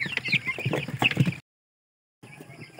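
Crowded Rhode Island chickens cluck in their cage, a busy nearby chorus that cuts off briefly and then resumes more softly.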